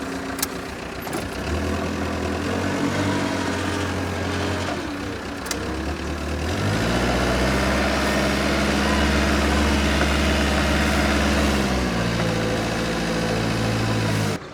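Tractor engine labouring steadily in snow on a farm hill, a loud continuous low rumble that shifts pitch and deepens as the load increases, with no talk over it.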